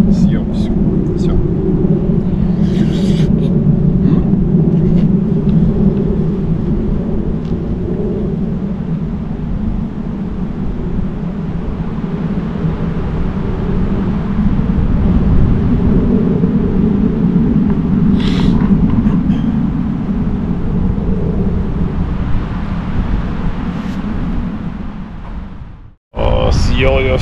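Strong, hurricane-like wind buffets the microphone in a continuous, loud low roar throughout a cycling tour. Some faint sounds may sit under it, and a brief dropout comes near the end.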